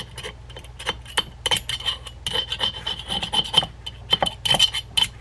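Grinding burrs off a saltwater fishing reel, an Ocean City Big Game 6051, with close, rapid rasping strokes of uneven rhythm and faint metallic clinks mixed in.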